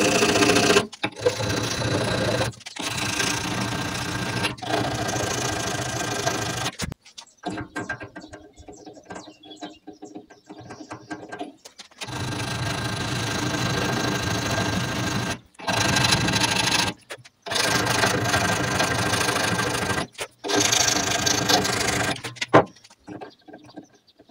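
A hand file rasps back and forth on clutch parts of an Alfa Romeo 147, loud steady strokes in long runs broken by short pauses, close up with no talking.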